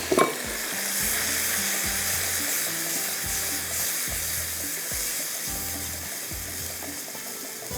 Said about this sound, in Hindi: फिर इसमें गोश्त डाल देते हैं और इसके साथ ही मैं इसको मिक्स कर देती हूँ